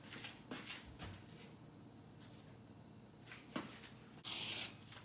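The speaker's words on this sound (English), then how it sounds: "I'm gonna spray the top of this pan so it won't stick to the cheese" A short hiss of cooking spray onto a glass pan lid for lasagna, loud and brief near the end, after faint kitchen clicks and handling noises.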